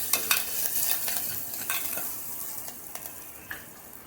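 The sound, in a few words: stirring potato vada mixture with green chilies and curry leaves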